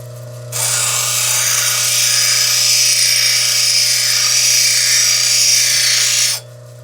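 A rotary tool grinds steadily into a piece of wild quartz stone, a loud, continuous high-pitched whine that starts abruptly, holds unbroken for about six seconds, then cuts off.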